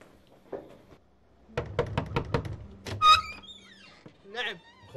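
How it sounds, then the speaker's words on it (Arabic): A run of sharp knocks on the family's front door in a domestic scene, about half a dozen quick raps at close range, with people talking before and after. "هذا صوت بابنا"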